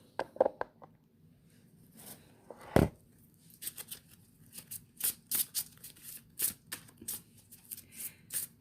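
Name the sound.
shuffling tarot cards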